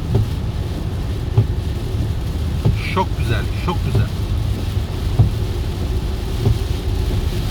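Steady rain falls under a low broadband hiss, with faint rumbles hinting at a distant thunderstorm; someone speaks briefly over the wet, continuous patter.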